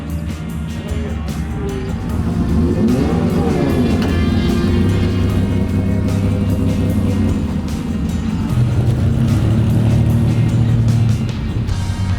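A Porsche 911 Carrera RS pulls away smoothly, its engine building into a steady, loud drone close by that holds for several seconds, with no talk over it.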